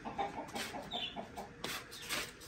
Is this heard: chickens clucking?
yes